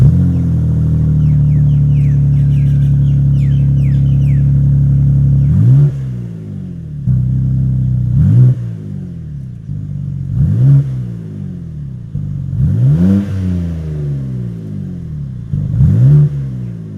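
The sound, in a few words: sports car exhaust revving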